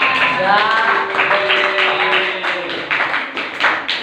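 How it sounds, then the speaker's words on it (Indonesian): A class claps hands during a sociology teacher-training session, scattered light claps that grow quicker and denser toward the end, mixed with a voice talking over them. "Tepuk tangan dong buat kita semuanya."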